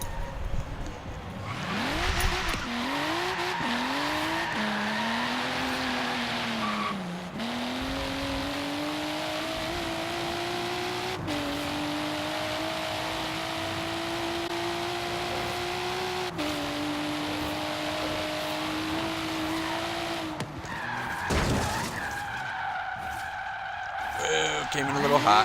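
A demo car in a video game drives through a parking-lot qualifying session, its engine tone rising and falling through gear changes with bursts of tire skidding, running steadily for the whole stretch while someone talks over it.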